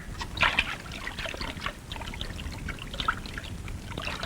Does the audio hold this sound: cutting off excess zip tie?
no